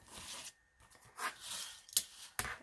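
Scissors cutting out a piece of material, a few separate soft snips and rustling strokes up close, quiet with short pauses between cuts and no talking.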